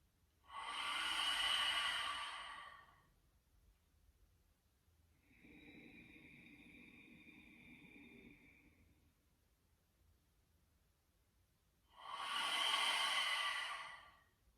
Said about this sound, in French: j'inspire profondément et à l'expire